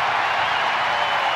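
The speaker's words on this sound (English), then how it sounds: "Crowd is reacting as they have seen one replay." A baseball stadium crowd reacting to a replay near the end of a close play at the plate, a steady broad roar of many voices filling the whole moment without breaks.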